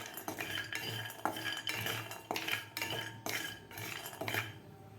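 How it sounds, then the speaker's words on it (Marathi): Cashews, almonds and pistachios being dry-roasted and stirred in a pan, a steady run of close scraping and clinking strokes with no voices. "आता यामध्ये घालायचे आपल्याला काजू, बदाम आणि पिस्ता. व्यवस्थित आपल्याला हे सुद्धा 1 मिनिटभर भाजून घ्यायचे आहेत."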